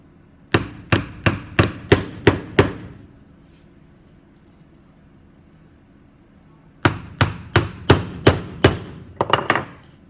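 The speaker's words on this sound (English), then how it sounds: "Hold it in place as I nail it down." Sharp hammer blows drive nails into a cardboard egg-car chassis, a quick run of about seven evenly spaced strikes, a pause, then another series of eight, close and crisp.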